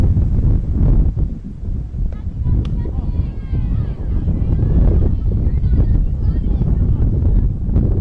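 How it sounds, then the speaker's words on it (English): Wind at an outdoor youth softball game, a strong continuous roar buffeting the microphone throughout, with faint voices underneath. "the wind starts to pick up once again"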